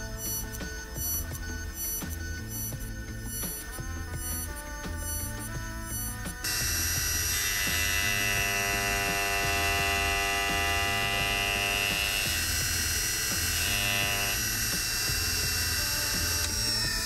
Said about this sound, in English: the cutter spindle is locked off and then the cut can proceed around the entire wheel